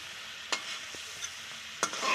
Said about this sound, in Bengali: এই যে আমাদের মাংস ভাজা হয়ে গেছে দেখে, এবার তুলে নিচ্ছে।